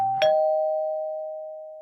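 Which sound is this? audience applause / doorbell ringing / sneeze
doorbell ringing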